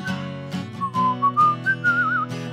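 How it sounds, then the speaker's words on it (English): Someone whistles a cheerful, wavering melody alone, clear and close, in a short run of connected notes with slight pauses between phrases. "Just purse your lips and whistle, that's the thing."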